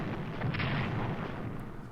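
Naval gunfire from battleships shelling a target in a World War strategy game, a dense rumbling barrage of booming shots that rolls on steadily for about two seconds with no talk.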